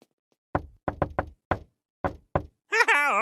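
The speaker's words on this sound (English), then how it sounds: "I got a great knock." Knocking on a door in an animated cartoon, a series of sharp raps in an uneven rhythm, close and clear against silence, followed by a brief voice at the end.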